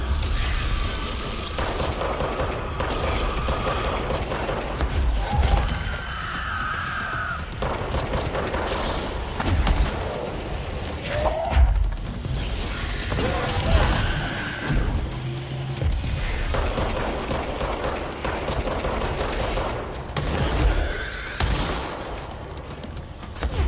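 Bursts of gunfire, thrown-object impacts and combat noise from the video game Control, dense and chaotic throughout, with loud clustered shots and crashes layered over a rumbling background.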